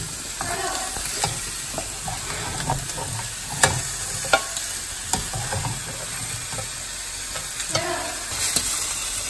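Refried beans frying in a pan, with a steady sizzle and the scrape and clack of a utensil stirring them close by, as a voice briefly speaks.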